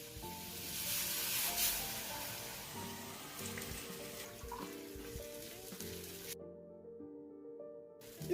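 Bone broth poured slowly into a pan of sizzling meatballs for a Swedish meatball sauce, a steady close hiss and bubbling with liquid splashing in, continuous throughout with a brief quieter moment near the end.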